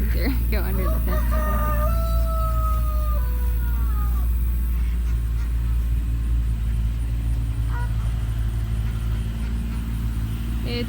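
A rooster on a hay-hauling homestead crows once in a long drawn-out call near the start, fading out over steady low engine-like rumble that continues alone afterward.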